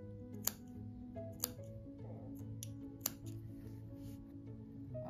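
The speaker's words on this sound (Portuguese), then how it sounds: "Agora eu vou dar um pique assim em toda a volta, só não pode cortar a costura." Small scissors snipping notches into fabric around a seam while sewing a fabric rug: three crisp, faint clicks of the blades spread over several seconds, close up against a steady low hum, no speech.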